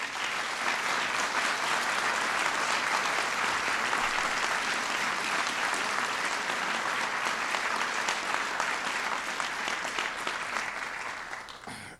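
A large audience at a White House ceremony for the National Medals of Science and Technology and Innovation gives sustained applause, a dense, even wash of clapping for about twelve seconds before it begins to fade.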